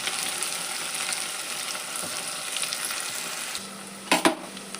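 Mustard seeds, onion and green chillies frying in hot oil in a home kitchen, giving a steady close crackling sizzle throughout, with a couple of sharper clatters and a brief hum near the end.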